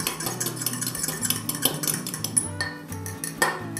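Eggs with dill whisked in a bowl, a quick rhythmic run of close metallic taps and clinks of a fork against the bowl, steady and fairly soft, with no talking.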